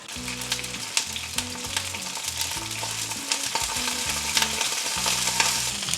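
Chicken pieces frying in hot oil give off a steady, loud crackling sizzle, with occasional scraping stir strokes and low clattering knocks from a pan, continuous across the clip with no voices.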